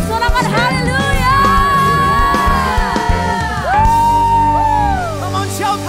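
Church congregation cheering and shouting hallelujah during a service, a loud crowd of overlapping voices, whoops and sustained shouts.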